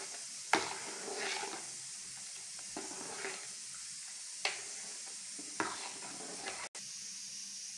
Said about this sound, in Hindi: और अब अच्छे से मिलाते हैं